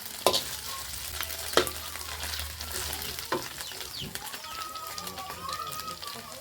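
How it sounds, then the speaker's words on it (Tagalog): Pancit noodles go into a hot frying pan and are stirred, giving a steady sizzle broken by sharp scraping clacks of the utensil against the pan, with faint talk in the background. "Ngayon ilagay natin ang pansit natin."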